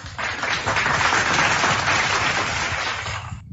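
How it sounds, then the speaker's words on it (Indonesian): Audience applause at a church gathering, a dense, steady wash of many hands clapping, loud and sustained throughout before tapering slightly at the end. "Tepuk tangan untuk Edis karena sudah mulai agak waras"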